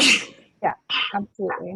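A sharp sneeze bursts out at the start, followed by brief speech nearby.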